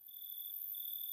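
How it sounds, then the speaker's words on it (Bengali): Crickets chirp in a steady, continuous high-pitched trill, faint and distant against an otherwise quiet night. "বাইরে অসংখ্য ঝিঝি পোকা ডাকছে।"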